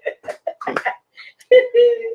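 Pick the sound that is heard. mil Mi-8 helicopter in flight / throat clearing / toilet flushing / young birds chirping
throat clearing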